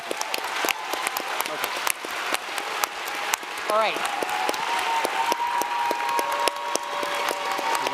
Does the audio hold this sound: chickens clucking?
no